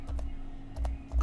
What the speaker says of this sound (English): Here, I'll type the link, Mel.